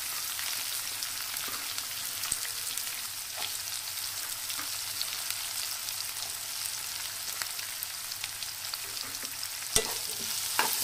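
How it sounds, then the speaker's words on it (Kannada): Onions frying in oil in a pan for mango chitranna, a steady close sizzle with occasional stirring clicks and scrapes, no voices. "ನೋಡಿರಿ, ನಾನೀಗ ಉಳ್ಳಾಗಡ್ಡೆ ಹಾಕ್ತಾ ಇದ್ದೀನಿ."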